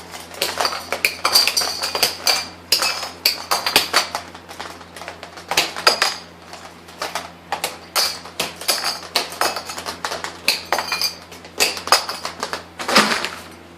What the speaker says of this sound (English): Now let's get rid of all these clips